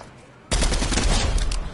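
Automatic gunfire in a Fortnite tournament match. A loud sustained burst of rapid shots starts suddenly after a quiet moment and runs to the end.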